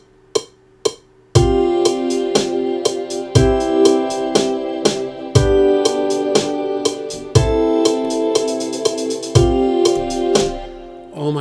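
A programmed drum beat from Maschine running as a Pro Tools plugin: two sparse opening hits, then a steady loop of punchy kicks and crisp repeated hits layered with pitched tones, played alone without voices.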